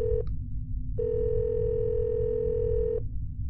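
Steady telephone dial tone in a Roblox video game, a short beep followed by a continuous tone lasting about two seconds, clear and loud over a low background rumble.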